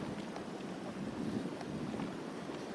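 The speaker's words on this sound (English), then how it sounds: "It's kind of windy out here, so it's a little hard to control this light bait." Wind gusts across the microphone outdoors beside a New York trout creek, a continuous low rumbling buffet with faint rushing, fairly quiet and steady throughout, no voices.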